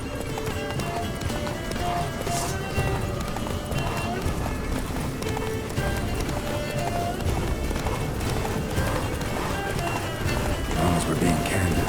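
Roach, the horse in a video game, gallops with steady, rapid hoofbeats through the whole stretch while a man and the horse's voice talk over the pounding.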